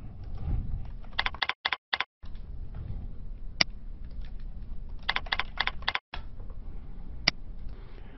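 Fingers type a username and password on a computer keyboard, with close, crisp key taps in quick bursts separated by short pauses and a couple of isolated harder clicks.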